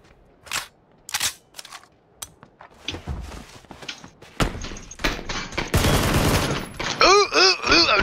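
Rifle gunfire in the battle royale game PUBG, sharp bursts of shots scattered through the round with louder, denser firing near the end, mixed with other game effects.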